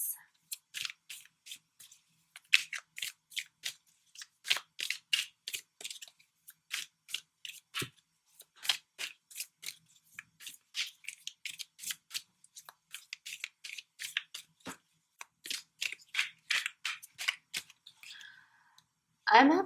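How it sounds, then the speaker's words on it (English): Rapid dry flicks and soft slaps of tarot cards being shuffled by hand, in uneven bursts, close and quiet with no talking. "I'm having a hard time shuffling these cards."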